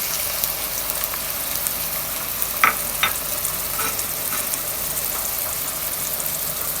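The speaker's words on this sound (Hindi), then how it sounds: "अब हम इसमें अदरक लहसुन का पेस्ट डाल देंगे।" Steady, close sizzling of ginger-garlic paste frying in hot oil with fried onions, a constant hiss with a couple of faint clicks partway through.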